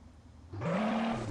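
A Mercedes S65 engine in the game Car Parking Multiplayer revs up sharply after a quiet start, its rising whine holding steady and fairly loud.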